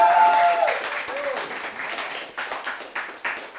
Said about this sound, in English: Come on, round of applause for that.